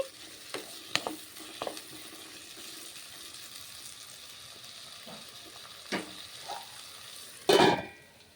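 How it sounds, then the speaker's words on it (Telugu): Capsicum curry with peanuts and tomato cooks on a high flame, giving a soft steady sizzle broken by a few spoon scrapes and clanks against the pan, then a louder clatter near the end. "హై ఫ్లేమ్లో పెట్టుకుంటున్నాను, క్యాప్సికమ్ తొందర మగ్గాలి కాబట్టి."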